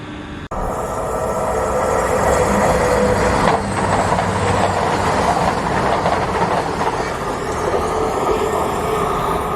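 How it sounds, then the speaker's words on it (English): A departing train rumbles loudly and steadily nearby, a heavy continuous roar of wheels and engine with no voices. "the train that just left went to Corby"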